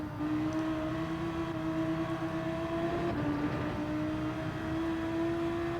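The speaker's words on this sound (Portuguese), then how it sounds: "Sente só o barulho do motor." Race car engine in the driving game Gran Turismo 7, a steady sustained drone holding a nearly constant pitch with only a slight shift partway through, heard alone without talk.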